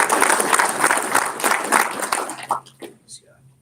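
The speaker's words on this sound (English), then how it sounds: "please give a round of applause to Mr. Scott Holman from TSMC" A round of applause from an audience at an education and economic council event, dense rhythmic clapping that fades out into a few scattered claps and a quiet room.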